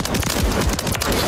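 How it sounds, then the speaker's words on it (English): Continuous rapid gunfire in Call of Duty, loud and dense bursts filling the whole moment with no pause. "Taking fire over here."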